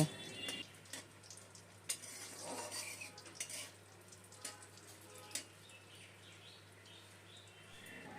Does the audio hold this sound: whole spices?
yes